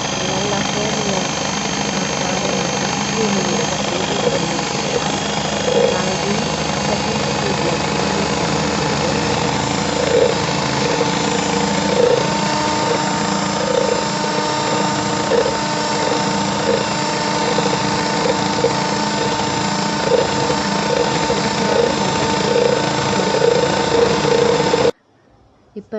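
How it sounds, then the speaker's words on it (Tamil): An electric hand mixer beats egg whites with lemon juice for strawberry chiffon cupcakes, humming steadily and closely for almost the whole time before cutting off abruptly at the end, with some speech underneath. "இது நான் ஹேண்ட் மிக்சரில் தான் யூஸ் பண்ணுறேன்."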